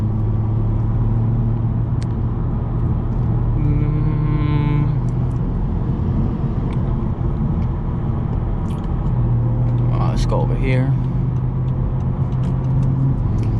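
A BMW 440i being driven, with a steady, loud engine and road drone heard from inside the cabin throughout. A brief spoken line rises over the hum partway through.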